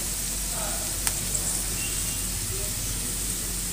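Chopped onions frying in a pan with asafoetida and spices for a pea and potato curry, giving a soft steady sizzle with an occasional faint clink, close but fairly quiet.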